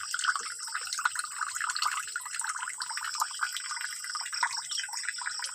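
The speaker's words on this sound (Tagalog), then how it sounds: "may tumutulo na mahina." Soft, steady water trickling and dripping into a crayfish tank, used in place of an aerator, with a continuous light splashing patter heard close and alone.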